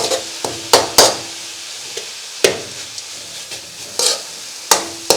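Thazhuthama leaves stirred with ground coconut paste for thoran in a pan: repeated sharp scrapes and taps of a spoon against the vessel in an irregular rhythm, close and clear over a gentle sizzle.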